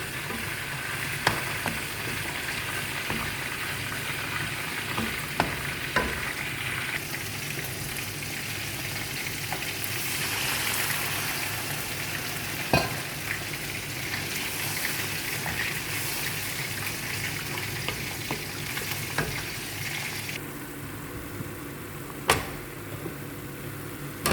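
Spices and soft sea fish frying with potatoes and carrots in a little oil for a curry, giving a steady, close sizzling hiss throughout, broken by scattered sharp pops and clicks, with no talking.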